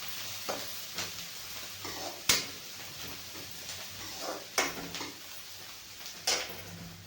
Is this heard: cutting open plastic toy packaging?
no